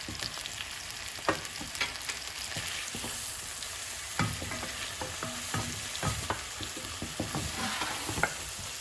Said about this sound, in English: she's just flipping the chicken over and over again